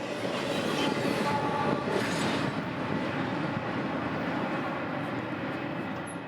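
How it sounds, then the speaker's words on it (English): A priority intermodal freight train from Jacksonville, two engines and about 5,000 feet long, rolls past with a loud, steady broadband rumble and rattle of wagons that fades slightly toward the end. "priority intermodal out of Jacksonville with a small train today"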